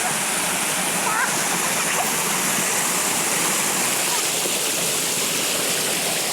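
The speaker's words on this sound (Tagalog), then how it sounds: "Pero lakas ang agos." A strong mountain stream rushes past close by, its loud broadband roar of flowing, splashing water holding steady and unbroken throughout.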